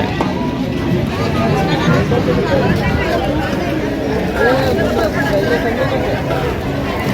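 Dense crowd babble fills the busy Sassoon Dock fish market in Mumbai, with many overlapping voices, traders calling out and general bustle, and nearby speech running continuously through the din.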